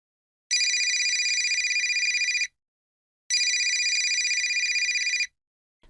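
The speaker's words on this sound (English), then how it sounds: "My mobile phone rang," A mobile phone rings in a quiet bedroom late at night, two clear bursts of electronic ringing, each about two seconds long with a short pause between, loud and close with no voices.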